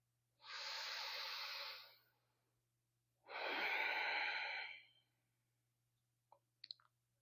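Slow, long breaths are drawn and released during a quiet meditation, heard as two drawn-out airy exhales a couple of seconds apart, followed by a few faint clicks, with no speech.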